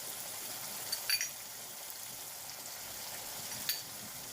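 Masala with asafoetida sautéing in a pan for Konkani fish curry gives a faint, steady low sizzle with a couple of soft stirring scrapes, no voices.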